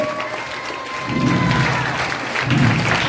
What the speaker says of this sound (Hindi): ताली मारकर ऊंची आवाज में बोले